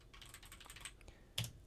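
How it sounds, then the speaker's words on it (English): A single firm press of the Enter key on an Apple Mac keyboard, following a few light, quiet key taps, all close and faint in a still room. "Another thing to do is to use the Enter key, which is on an Apple Mac keyboard."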